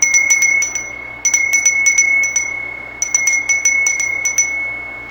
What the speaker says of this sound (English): we're going to go ahead and we're going to ring the bell, create a sacred time